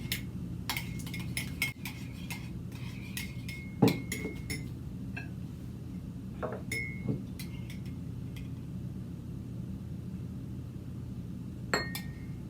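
Ingredients stirred together in a dish for a honey mustard sauce, giving scattered light clinks of a utensil against the dish over a low steady background hum, with no talk.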